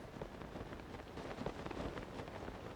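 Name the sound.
gunk raining down in Tears of the Kingdom video game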